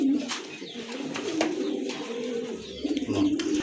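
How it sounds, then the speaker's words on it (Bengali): Pigeons of a fancy breed cooing close by, a steady low rolling coo running almost continuously, with faint rustling and chirps around it. "একজোড়া সুপার মিলি কবুতর খুবই চমৎকার"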